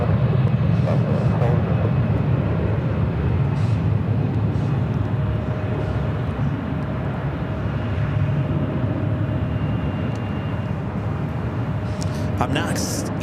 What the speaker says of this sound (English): A380 now making that turn onto taxiway Kilo.